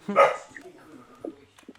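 Dog in Minecraft letting out one sharp bark at the start, followed by a few faint, muffled yips and murmurs that fade out quietly.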